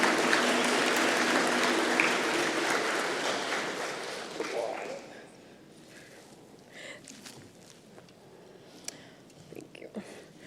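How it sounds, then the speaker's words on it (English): An audience applauds at a business award ceremony, loud and sustained clapping for about five seconds that then dies down to scattered faint sounds. "Please give her a round of applause."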